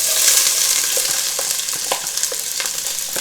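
Two onions fry in a pan for a healthy gumbo roux, producing a loud, close, steady sizzle with light spoon scrapes and soft taps at a loose rhythm, without any talk.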